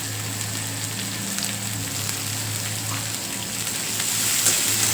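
Chopped onion frying in hot oil with browned garlic for a shepu (dill) greens dish, giving a steady, dense sizzle throughout that swells slightly louder near the end, with no talking.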